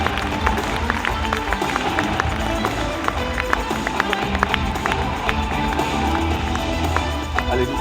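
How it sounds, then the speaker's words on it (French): An audience at a 2022 Loiret business awards ceremony applauds a brewery winning the economic performance prize, with dense, sustained clapping from a crowd filling the room and a few voices mixed in. "Allez, nous les applaudissons."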